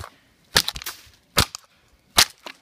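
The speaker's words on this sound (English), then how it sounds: "So I'm gonna beat the shit out of it on this tree right here." Three loud, sharp cracks ring out about a second apart as a portable radio is smashed against a tree on a hike, each blow a splintering impact with small rattling debris after it, close and without talk.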